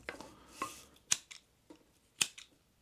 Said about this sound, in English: I believe these are the best scissors I've had on a multi-tool